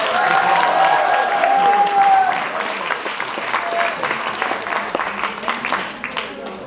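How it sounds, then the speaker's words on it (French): Audience at a cosplay contest applauds loudly, a dense burst of clapping that thins into scattered claps over several seconds, with a voice briefly audible at the start. "On l'applaudit bien fort."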